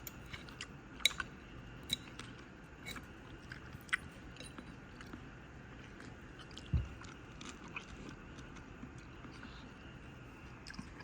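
Crunchy bites into an air-fried crispy chicken thigh, a few sharp, quiet crackles and crunches spaced out over a faint, hushed background.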